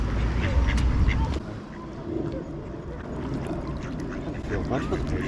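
A duck quacks beside the Mere, a lake at Ellesmere in Shropshire, with short calls heard under people talking and open outdoor ambience near the water.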